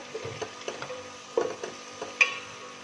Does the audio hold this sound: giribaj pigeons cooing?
no